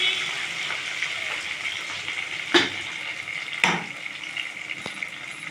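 Ginger garlic paste goes into hot oil in a pan for an eggplant dish, producing a steady moderate sizzle punctuated by two sharp hissing bursts, with no talk.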